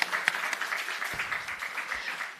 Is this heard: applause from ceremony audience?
yes